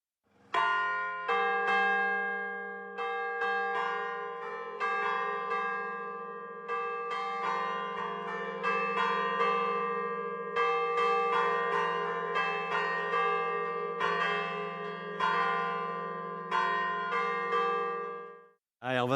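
Several church bells in the Rollainville church tower peal together in a steady, overlapping clang, each strike ringing out and decaying into a sustained low hum, loud and close, continuing for the whole stretch before stopping abruptly.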